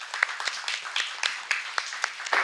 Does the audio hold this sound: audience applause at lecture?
yes